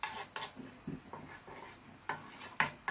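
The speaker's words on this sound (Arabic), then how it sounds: "الدجاج ديالي هو كيطيب والرز ها هو غنخليه يطيب" Chicken and rice cooking together in a pot, with soft steady simmering and several sharp clinks and scrapes of a utensil against the pot at irregular intervals.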